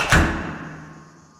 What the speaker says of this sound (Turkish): Kapı niye o kadar sesliydi?